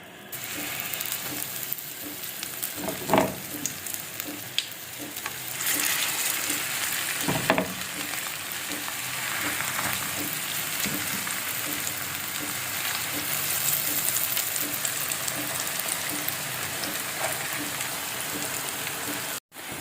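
Hash brown potatoes fry in a few tablespoons of hot oil in a pan, giving a steady, close sizzle with occasional louder crackles and bumps of the pan, no voices over it.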